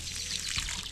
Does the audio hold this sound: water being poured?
yes